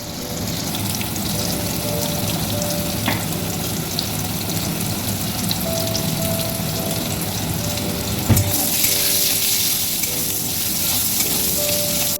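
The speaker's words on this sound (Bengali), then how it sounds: "কড়ায় আমি সর্ষের তেল দিয়ে দিলাম, আলুগুলো ভেজে নিচ্ছি" Potatoes frying in mustard oil in a karai, a steady close sizzle running throughout with occasional stirring clinks and a brief louder scrape near the end.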